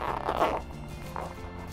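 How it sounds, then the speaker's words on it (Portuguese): A zipper opens on a fabric clutch bag under construction, its lining in hand; a short, close rasping pull sounds in two quick bursts, soft and alone. "Agora eu abro o zíper"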